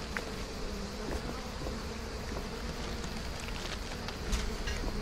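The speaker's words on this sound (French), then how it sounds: "Bon, en fait, il y a des abeilles." Bees buzz in the enchanted forest of Trine 2 as a continuous, droning hum that holds steady throughout, moderately loud, with faint game ambience behind it and no voices.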